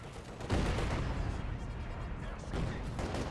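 Company of Heroes 2 battle with a Panther tank in play, a dense, steady rumble of distant artillery and gunfire, with heavier bursts around the half-second and two-and-a-half-second marks, continuous and fairly loud throughout.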